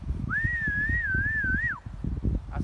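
A person gives one long, clear, wavering whistle to call back a trained bald eagle outdoors, held for over a second over a low rumbling background.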